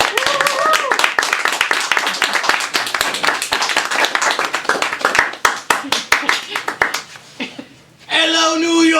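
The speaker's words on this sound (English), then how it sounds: "Give it up for the very funny Kaleb." Audience at a small-room New York comedy show claps and cheers for a comedian being introduced, a dense burst of applause that thins out toward the end, with a voice speaking over it at the close.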